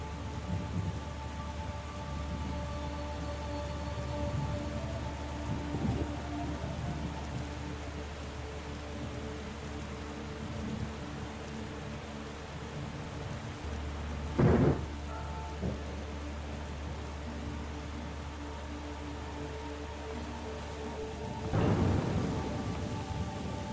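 Video game thunderstorm in The Gardens Between: steady rain patters throughout while two sharp thunder cracks with rumbling tails break out, one mid-way and another near the end, with no talking.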